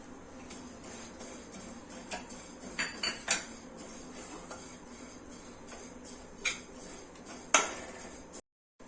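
Dry white sesame seeds roasting in a pan for a spicy chicken rassa, giving light scattered ticks and clinks of metal with a few sharper utensil taps against a quiet kitchen background.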